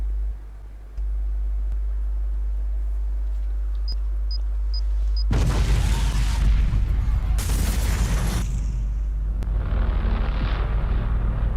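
Large explosions in the trailer for the Watch Dogs: Legion video game: a quiet hum and a few faint beeps, then a sudden loud roaring blast, a second burst, and a lingering rumble as it dies away.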